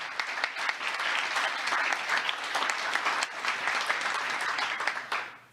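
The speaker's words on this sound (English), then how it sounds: "Give yourselves a round of applause," Crowd at a White House pro-life celebration gives a sustained round of applause, dense and even throughout, fading out at the very end.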